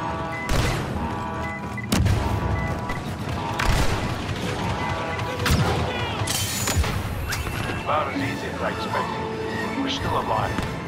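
Star Wars Battlefront battle with a thrown grenade: sharp booms and crashing blasts mixed with bursts of blaster gunfire, loud and busy throughout, with voices calling out over the combat.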